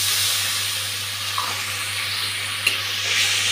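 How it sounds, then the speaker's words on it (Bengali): Onion frying in a pan keeps up a steady, loud sizzle and hiss as soaked spice paste goes in, with a couple of brief clinks from stirring and no talk. "পেঁয়াজটা ভাজা হয়ে গেছে, আমি এখন গুলে রাখা মশলাটা দিয়ে দিচ্ছি।"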